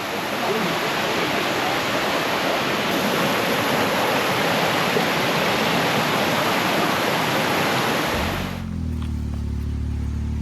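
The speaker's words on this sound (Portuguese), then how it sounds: "A água passa por baixo da pedra aqui, ó." Water rushing beneath a stone beside a low wall on a mountain pilgrimage route at 4,000 metres altitude, a loud, steady broadband wash that holds for about eight seconds, then cuts off abruptly to quieter wind and low rumble.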